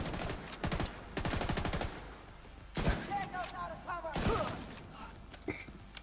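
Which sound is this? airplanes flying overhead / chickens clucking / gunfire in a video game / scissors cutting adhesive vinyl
gunfire in a video game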